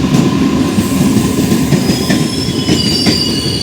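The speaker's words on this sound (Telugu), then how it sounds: "ఇది కరునాగపల్లి రైల్వే స్టేషన్కి ఇంకొక పక్క వ్యూ. లోకల్ మెమో వస్తుంది చూడండి" A local MEMU train pulls into Karunagappally railway station, its wheels rumbling loudly and close on the rails with high screeching squeals from the wheels.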